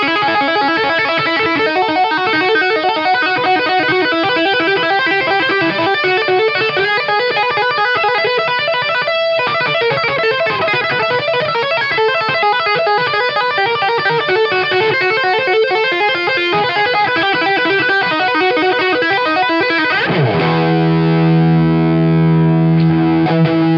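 An electric guitar plays through a Wampler Pinnacle distortion pedal, giving a loud, thick, saturated tone with sustained chords and riffs that run continuously before settling into ringing held notes at the end.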